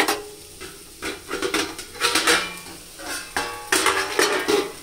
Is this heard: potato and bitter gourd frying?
yes